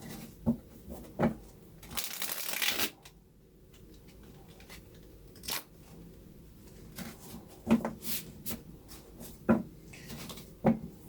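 Tarot cards are riffled and shuffled in quick bursts with soft taps and slaps between them, close up, in an otherwise quiet room.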